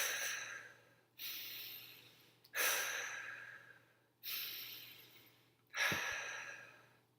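A person takes deep breaths one after another in a breathing exercise, each a sharp inhale followed by a long, fading exhale, five close, strong cycles in a quiet room with no talking.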